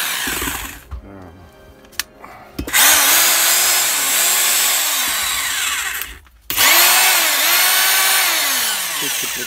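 A Vitals rotary hammer runs under test after repair, its loud motor drone and rattling hammering coming in two close, sustained bursts separated by brief pauses.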